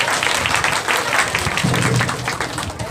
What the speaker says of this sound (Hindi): आए हम सब ताली बजा करके पास्टर जी का स्वागत करें हमारे बीच में शादी के लिए।